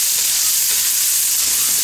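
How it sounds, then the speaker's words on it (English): Spam and sweet corn being stir-fried in a hot pan, a loud, dense, continuous sizzle up close with no voices. "today's meal, stir fry and corn"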